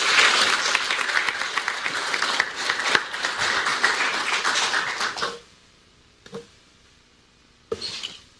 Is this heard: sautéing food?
no